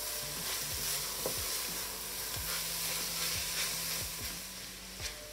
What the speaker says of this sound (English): Now we're going to add our corn or mince, whatever you're using, and stir it through. Let it fry for about 3-4 minutes.